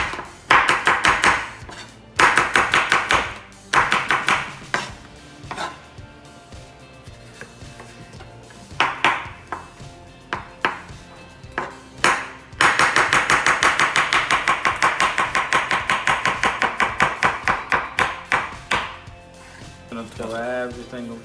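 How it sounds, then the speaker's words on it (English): A knife roughly chopping cucumber, tomatoes and onion on a cutting board for a salad, loud close knocks that come in short bursts and then a long run of quick steady chops, with talk in between. "Cucumber with sliced tomatoes, onion, that's a rough chop"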